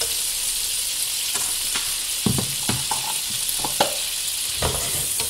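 Mushrooms frying in margarine in a pan, a steady sizzle running throughout while a utensil stirs them with several distinct scraping knocks, close by and with no talking.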